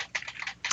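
Quick, soft clatter of computer keys pressed in a short burst, close and fairly faint, during an exam on a laptop.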